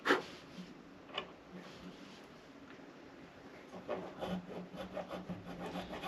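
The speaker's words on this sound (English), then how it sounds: "what I'm going for right now is I'm just filing all the way down to that line" A file rasps back and forth in a guitar nut slot in faint, steady strokes, some longer and some shorter, with a few light knocks, heard close in a quiet room.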